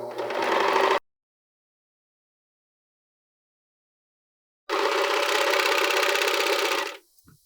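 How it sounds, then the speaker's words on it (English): A serger overlock machine sews the side seams of a pair of women's panties in two loud, steady bursts of fast mechanical whirring: one short run at the start and a longer run after a silent gap. "So let's go over to the serger and serge it up."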